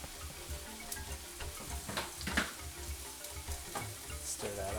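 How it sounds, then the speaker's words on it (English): Meat being stirred into browning onions in a frying pan, a steady close sizzle with scraping stir strokes and occasional louder clatters, no voices. "now that the onions are starting to brown, we're going to mix in the meat"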